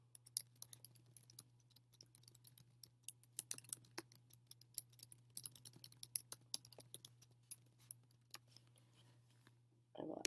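Someone typing a description on a computer keyboard, with quick irregular bursts of light key clicks over a faint steady hum, close and quiet, and a short muffled sound at the very end.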